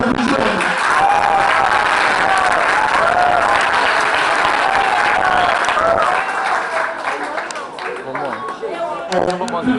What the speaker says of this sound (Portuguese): Eu gostaria de dar salva de palmas ao Diego.